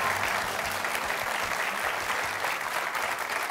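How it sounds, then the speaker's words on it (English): Audience at a high school quiz show competition applauding the introduced team, a steady, full burst of many hands clapping at moderate distance, sustained evenly before tapering slightly. "Nice round of applause."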